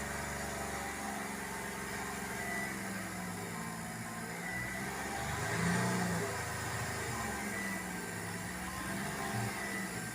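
The Hyundai i10 diesel engine, which has a tapping fault, drones close by and loud. Its revs rise to a peak and then slowly ease back down, with no talking.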